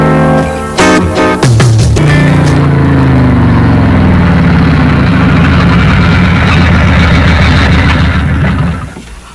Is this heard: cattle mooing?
no